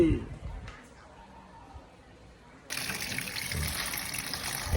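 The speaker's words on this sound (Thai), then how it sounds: "มาทำความสะอาดกระเจี๊ยบก่อนเลย ล้างให้สะอาดสะอาด" Roselle flowers being washed under a running kitchen tap, a soft trickle that swells into a steady louder gush of water partway through.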